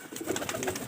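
Soft, close cooing from big, lightweight pigeons kept in a rooftop loft, a few quick burbling calls in a short, quiet burst, no speech.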